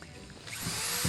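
A power drill pre-drills holes for large deck screws while building a wooden patio settee and chairs. A short, close whine rises and holds steady as the bit bites in.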